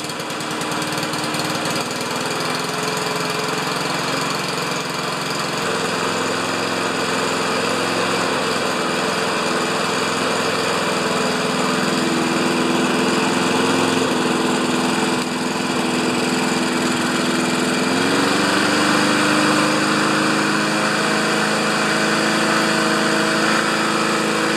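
A Craftsman lawn mower with a Honda engine and a sticky choke runs continuously up close, its loud, high-pitched engine drone holding steady with slight shifts in pitch and speed throughout.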